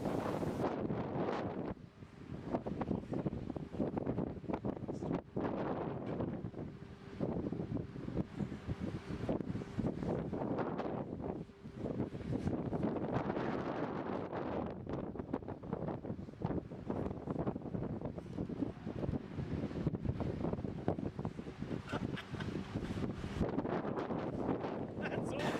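Strong outdoor wind gusts and buffets the microphone without letup around a small homemade wind turbine generator, with a roaring, rumbling rush of air.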